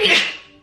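A single human sneeze, loud and close, bursting out sharply and then trailing off quickly into silence within a second.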